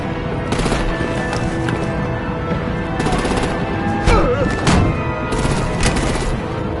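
Heavy gunfire in the Batman: The Enemy Within video game, with repeated bursts of shots and booms under a constant battle din, loudest around the middle and later seconds.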